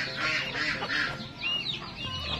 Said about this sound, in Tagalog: Ating mga manok naghihintay na ng kanilang ayuda.